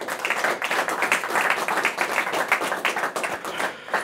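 An audience at a business lounge panel claps to welcome a guest, a dense, even round of applause from a moderate crowd that continues without pause.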